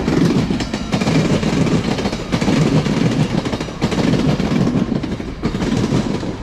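A train rumbles past close by, its wheels clattering in a steady rhythmic clickety-clack over the rails, loud and continuous.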